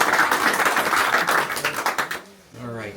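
A group at a car club meeting at a restaurant claps briefly in a quick burst that stops after about two seconds, followed by a voice speaking.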